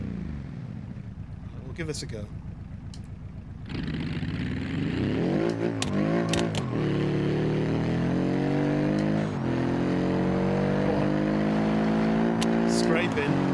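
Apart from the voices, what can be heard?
diesel car engine revving in BeamNG video game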